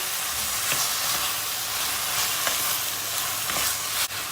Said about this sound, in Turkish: Salçamız kavrulmaya başladı. Tam bu aşamada domatesini ilave ediyoruz.